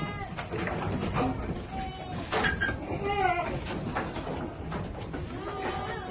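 Goats bleat during daily feeding time on a farm, several overlapping cries rising and falling close by amid rustling and shuffling, with a cat-like meow quality to some calls.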